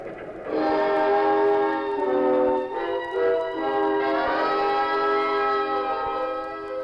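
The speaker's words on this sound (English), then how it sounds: "Well, the train's going too fast." A loud horn on a speeding train blares in long sustained chords, its tone wavering slightly as it holds for several seconds.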